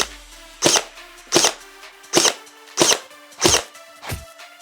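Nerf AEG blaster firing single shots, six sharp loud snaps spaced roughly evenly about a second apart, each with a brief mechanical whir, alone without talk.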